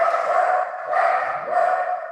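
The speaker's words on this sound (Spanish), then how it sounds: "están inspirados mis perros el día de hoy" Several dogs bark together indoors, close and loud, in a continuous overlapping stream of rough barks with two brief swells, without any talking.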